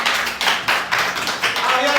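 An audience claps for a contestant in a quick, rhythmic series of bursts, loud and close, with voices mixed in.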